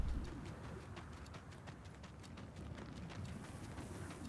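Soft pigeon cooing in the game 11-11 Memories Retold, faint and low against a quiet background hiss, with light rhythmic tapping and no talk.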